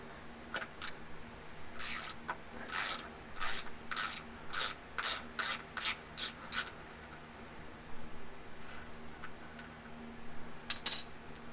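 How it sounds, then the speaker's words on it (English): A wrench ratchets on the fill bolt of a Jeep Wrangler JL Rubicon 392 rear differential, a close series of about a dozen crisp, rhythmic clicking strokes, followed by a pause and a brief final pair of clicks. "So first I will loosen the fill bolt."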